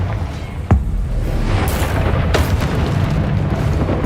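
Confringo blasting-spell explosions in the video game Hogwarts Legacy: a sharp boom early on, then a second burst with a crackling rush, over a rumbling low background.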